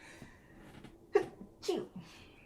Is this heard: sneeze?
yes